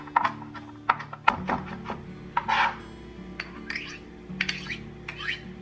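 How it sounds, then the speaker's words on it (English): A knife mincing garlic on a cutting board, giving irregular sharp taps and short scraping strokes, fairly faint, over soft steady background tones with no speech. "Last, mince your garlic."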